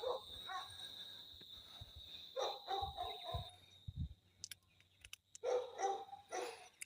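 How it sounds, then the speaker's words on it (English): A dog barking a few times at a distance outside a cemetery near Brixton Hill United Church, faint under steady outdoor ambience and a high electrical whine, with no talking. "there's a dog barking in the background"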